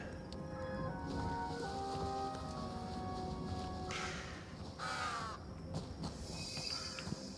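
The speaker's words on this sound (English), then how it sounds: "Whoa, a crow?" A crow caws in the Hytale video game, two harsh calls rising over a steady ambient game soundscape with faint footsteps.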